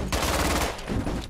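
Rapid automatic gunfire from the zombie shooter game Contagion, loud, close bursts of shots firing in quick succession that briefly break off and then resume.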